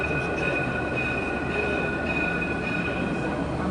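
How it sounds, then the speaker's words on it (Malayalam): A tram pulls into Lusail station in Qatar, a steady loud rumble of rolling wheels with a high sustained squeal from the rails, close by and continuous throughout. "അപ്പോൾ ഒരു ട്രാം വന്നിട്ടുണ്ട്."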